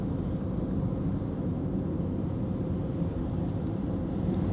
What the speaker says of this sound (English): he's going to overtake me now